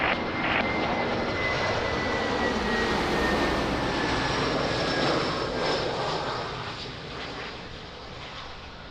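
An airplane approaches runway 02 at Lisbon Airport, a loud continuous engine roar with a high whine, heard close from a crowded spotting area and fading slightly toward the end.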